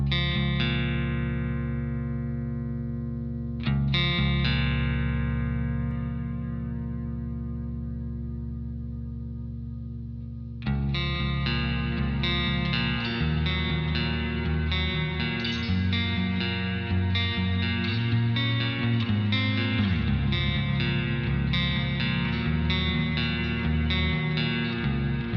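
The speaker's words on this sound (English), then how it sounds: "This is sort of the big ambient reverb." Electric guitar chords ring out and wash into a huge, lush ambient reverb, long tails swelling, then a repeating picked pattern shimmers inside the echoing space.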